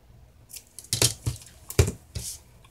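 Scissors snipping through a strip of double-row sticky gold tape for a journal purse craft: several short, crisp cuts and rustles close by, uneven in rhythm, with no talking.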